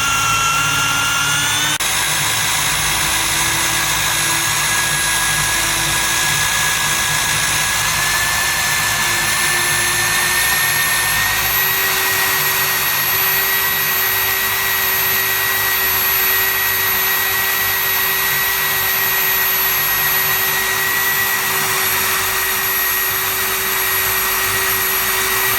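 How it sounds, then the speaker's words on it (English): An HSK plastic extrusion welder runs steadily while purging material, a continuous loud motor whine with a blower roar and a pitch that rises slightly after startup, with no talk. "we purge the material through the machine"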